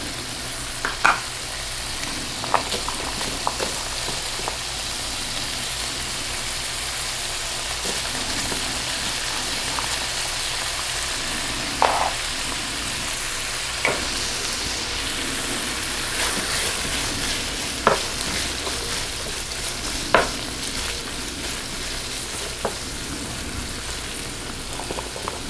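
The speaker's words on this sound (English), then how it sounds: "bacon starting to sizzle" Bacon sizzles steadily in a frying pan, a constant crackling hiss with occasional sharper pops and scrapes, close and continuous.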